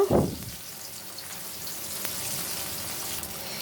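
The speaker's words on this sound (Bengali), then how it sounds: "দেখো মাছগুলো এক পিট ভাজা হয়ে গেছে আমি উল্টে দিলাম আর এক পিট ভাজা হওয়ার জন্য" Fish pieces flipped in hot oil give a brief loud clatter at the start, then settle into a soft, steady frying hiss for a few seconds.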